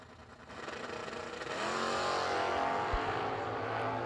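Drag racing launch of a 1971 Chevrolet Nova and a 2001 Camaro at the Fall Brawl, a loud sustained engine roar that swells and holds at full power as the cars leave the line.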